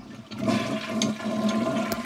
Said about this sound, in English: Okay, I'm flushing.